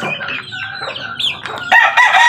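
A loose mother hen clucks and calls near the microphone among her chicks, the sound rising into a louder, sustained call toward the end.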